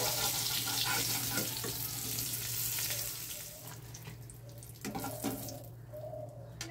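Pointed gourds sizzle in hot oil as they are lifted out after about five minutes of frying, a broad hiss that starts strong and thins out, with a few scraping clicks toward the end.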